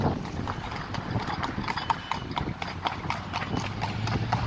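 Horse hooves clip-clop in a steady, close rhythm on the street as the horse pulls a tour cart around Georgetown, Guyana, with faint background noise.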